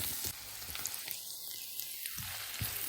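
Onions sautéing in a pan for Kuttanad-style duck curry give a steady close sizzle that runs throughout, with faint stirring scrapes and no talking.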